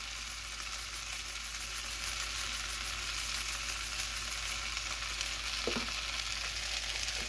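Garlic and fresh oregano hit softened vegetables in a hot pan, giving a steady, even sizzle throughout with a brief clack of a utensil near the end; no one talks.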